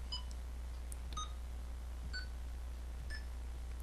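Short electronic key beeps from a menu's Key Beep Tone setting, each step pitched higher than the last as the value goes up. Several separate clean beeps sound at irregular intervals over a steady low hum.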